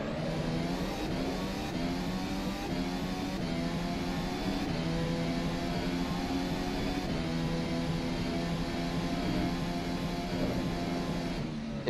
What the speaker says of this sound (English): That is the Honda engine